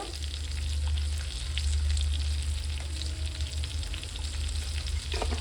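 Ginger garlic paste frying in oil in a pan for village-style quail curry, a steady close sizzle with light stirring scrapes, no speech.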